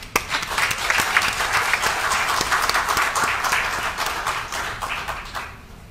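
Dense applause from a crowd at an inauguration ceremony for a public building, sustained clapping at full strength for several seconds before thinning slightly at the end, with faint voices beneath.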